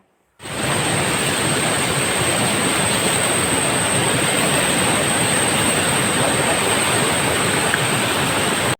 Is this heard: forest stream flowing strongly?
yes